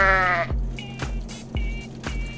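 Goat bleats from the Goat Simulator video game, a wavering cry followed by several short repeated bleats over a steady low game hum, loud and close.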